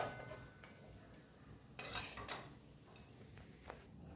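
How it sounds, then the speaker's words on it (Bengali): Cooked groundnut biryani rice scooped from a pot onto a serving dish, a loud burst of scraping and clinking utensil-on-metal at the middle, with a few softer spoon taps after, no talking. "এবার আমি ডিশে তুলে দিই।"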